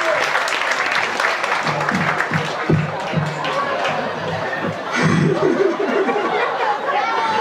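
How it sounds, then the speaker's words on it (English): Audience clapping at a comedy show aboard a ship, a sustained round of applause mixed with crowd chatter and scattered chuckles, loud and close, with a voice speaking briefly over it. "Come on, clap it up."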